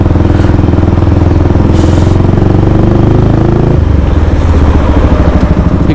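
A motorcycle engine runs loud and close while riding on a road in Saudi Arabia, a steady throbbing drone that drops in pitch partway through as the bike slows.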